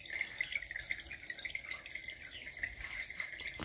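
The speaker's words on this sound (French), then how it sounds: "d'un goûteur à l'autre il coule pas du tout à la même vitesse" Water dripping from self-regulating irrigation drippers, a fast irregular patter of small drops over a steady watery hiss, close and fairly quiet.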